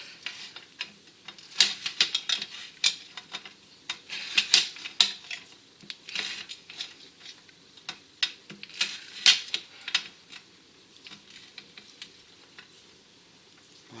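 A knife chops Hi-Fi bars on a board with light, sharp irregular taps and clicks, quick bursts separated by short pauses, close and fairly faint.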